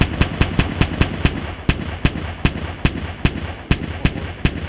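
A modded weapon from the ClockWork Nations modpack fires a steady series of sharp, loud shots, about twenty in under five seconds at a fairly even rhythm, with a low hum underneath and no voices.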